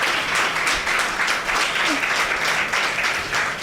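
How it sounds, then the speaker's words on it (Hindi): A talk-show audience claps together in sustained, fairly loud applause with a dense, even patter, and brief voices come through faintly underneath. "Now you should clap."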